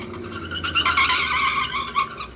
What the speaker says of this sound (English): Suddenly, the second swerves ahead and forces the first car into the curb.